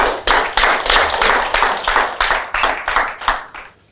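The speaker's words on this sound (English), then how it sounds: "Clap for him." A small audience claps in a seminar room, a run of distinct sharp bursts with a fairly even rhythm, close and fading out at the end.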